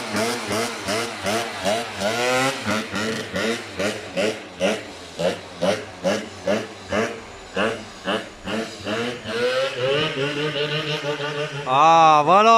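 A moped fitted with a 70cc Most kit is blipped repeatedly, its buzzy two-stroke note rising and falling in a steady series of short throttle bursts before a longer, higher rev at the end.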